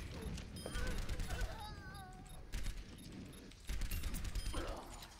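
Rapid bursts of video-game gunfire in Overwatch, loud and repeated in clusters across the clip, mixed with in-game effects and a voice talking over it.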